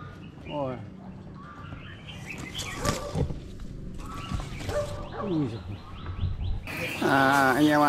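Wild birds chirping around their nest with young birds nearby, quick sweeping tweets heard close, with a louder burst of calls at the end, mixed with rustling and someone talking.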